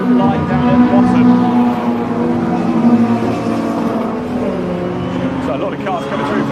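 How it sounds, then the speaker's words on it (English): MG Metro Cup race cars stream past on a circuit in a steady, loud engine drone with rising and falling pitch as they go by. A commentator talks over the noise. "So a lot of cars coming through for the final time."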